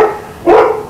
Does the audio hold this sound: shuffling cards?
no